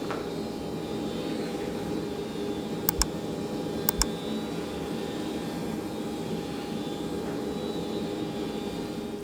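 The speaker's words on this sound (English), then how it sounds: "It takes me 2 passes through the thicknesser to get to the 3/4 of an inch that I'm after." Felder CF741 combination machine thicknessing tongue and groove flooring boards at 12 meters per minute, a steady droning motor hum with two pairs of sharp clicks partway through, heard alone.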